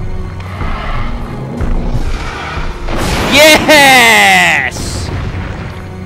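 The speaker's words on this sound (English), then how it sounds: "Rocket launcher." Rocket launcher blasts in the survival horror game Resident Evil Outbreak File #2, a heavy boom followed by a roaring, screeching burst that swells and cuts off, over game noise, with a short excited shout.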